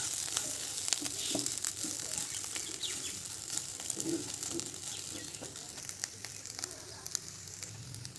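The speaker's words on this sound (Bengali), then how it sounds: "চালটা যখন ভাজবেন তখন কিন্তু লো হিটে চালটাকে ভাজতে হবে" Soft, steady sizzling of rice grains frying in a pan on low heat, a low continuous crackle with faint clicks throughout, no talking.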